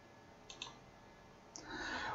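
A computer mouse clicking in Microsoft Project: two quick, faint clicks close together, then a third click a second later, followed by a low hiss of room noise.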